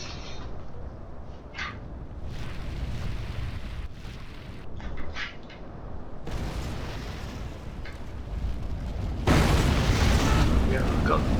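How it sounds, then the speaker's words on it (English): Artillery bombardment in the battle game Rome: Total War, with booming explosions and bursts over continuous battle noise, growing to a loud, dense roar near the end, while people talk over it. "I try and bombard them as they're running"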